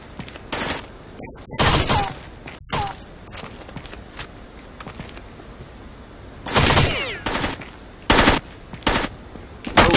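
Bursts of automatic gunfire in the video game Rainbow Six Vegas 2 during a Terrorist Hunt mission in the Three Kings Casino, loud repeated volleys with short pauses between them and scattered single shots.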